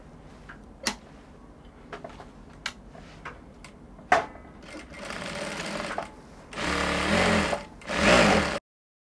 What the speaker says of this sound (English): So I'm done stitching it with the lining.